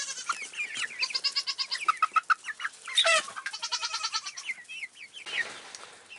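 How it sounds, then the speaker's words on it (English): A young Easter Egger rooster makes repeated clucks and squawky calls at close range, in an irregular, chattering rhythm with brief pauses and no talking. "I can almost guarantee it's not a hen, it's a rooster"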